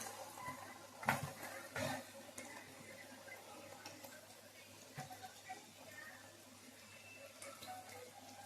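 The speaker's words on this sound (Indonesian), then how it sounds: "Nah ini setelah minyaknya panas langsung aja aku masukin ke dalam panci atau wajannya." Battered crispy shrimp fry in hot oil in a wok, making a faint, steady sizzle with a few sharp crackles and pops near the start and middle.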